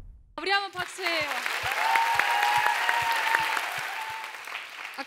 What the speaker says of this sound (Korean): 우리 한번 박수해요